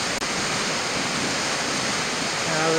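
Rushing water of the Vermilion Chutes roars as a steady, loud broadband wash throughout, close and continuous, with no voices over it.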